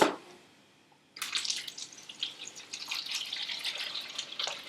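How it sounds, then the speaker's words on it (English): Small water pump lifting 2 liters of water to a height of half a meter, starting abruptly with a steady splashing, trickling hiss that continues close and fairly loud after a brief quiet gap. "as I switch the pump on, I'm going to switch the stopwatch on"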